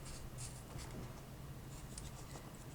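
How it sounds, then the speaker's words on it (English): A black Spectrum Noir pen marks the edge of a paper envelope with quick, soft scratchy strokes, close and quiet, with short gaps between strokes and no one talking. "taking a black Spectrum Noir pen, all I do very quickly is open up the edge of the envelope"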